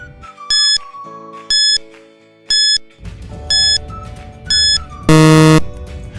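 A quiz countdown timer sounds in a children's journalism lesson: five evenly spaced electronic beeps over a light musical bed, followed by a louder, longer buzzer tone signalling time's up.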